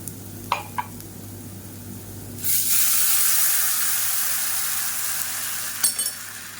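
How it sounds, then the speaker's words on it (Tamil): Tamarind-tomato rasam is poured into a pan of sautéed tempering and hits the hot oil with a sudden loud hiss that settles into a steady sizzle, with a few light clinks of metal before and after. "ஒரு 2 நிமிஷம் நல்லா வதக்கி விட்டுட்டு நம்ம கரைச்சி வச்சுருக்கிற இந்த ரசத்தை சேர்த்து, அதாவது தக்காளி புளியை சேர்த்துக்கலாம்"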